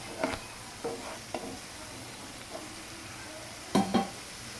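A spoon scrapes and stirs turmeric into a frying masala dahi bhindi pan. A few short separate stirs stand over a faint sizzle, close and fairly quiet, with no talk.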